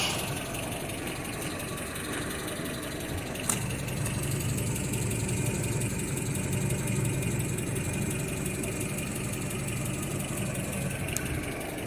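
The 2.6-litre engine of a 1995 Holden Rodeo idles steadily, giving a continuous even drone with a faint ticking, and one brief click is heard partway through.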